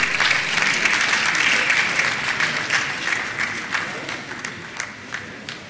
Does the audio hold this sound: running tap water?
no